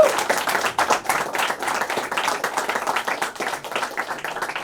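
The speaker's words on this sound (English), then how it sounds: "Guys, please give them a huge round of applause all in time." A college festival crowd at Mithibai Kshitij in India applauds guest singers, steady dense clapping throughout with a few louder bursts, close and lively.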